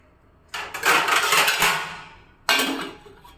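A lid is set down onto a cooking vessel in a kitchen, making a clattering metallic rattle that rings on, followed a couple of seconds later by a second shorter clank.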